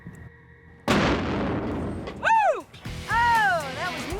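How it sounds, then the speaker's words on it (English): A black powder bomb explodes against concrete inside a truck: a sudden loud blast at close range, then a sustained roaring rumble, followed by excited voices whooping and exclaiming. "The explosion rocks the truck with a blast equivalent to almost half a stick of dynamite."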